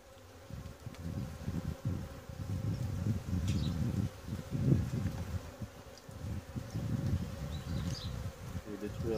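A honeybee swarm hums inside a Langstroth hive, a close, continuous low drone with shifting intensity and occasional individual bees zipping past.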